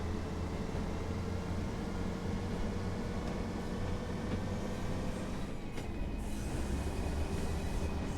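A Class 142 Pacer diesel train in Train Sim World 4 drones steadily with engine rumble and rail noise as it shifts gear while accelerating, a continuous mechanical hum with no talk.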